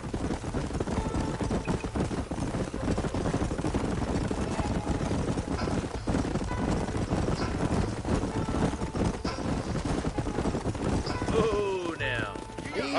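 Horse hooves clip-clop in a Wild West video game scene, a dense rhythmic clatter of several horses under ongoing background noise, with a brief neigh-like call near the end.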